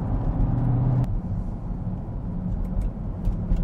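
An Audi 4.2 TDI V8 diesel hums at light throttle, a low steady rumble with a slight rise early on, heard from inside the car with no talk.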